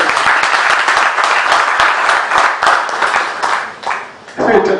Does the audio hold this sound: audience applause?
yes